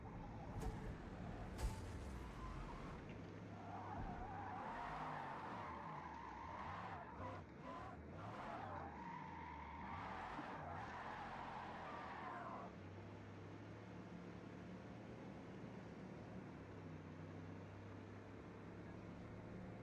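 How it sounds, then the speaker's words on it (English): A V8-engined car roars in Forza Motorsport, its tires skidding and squealing loudly for several seconds before the engine settles into a steady drone. No one speaks. "Ah, good old sounds of a V8"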